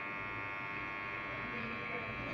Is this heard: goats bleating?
no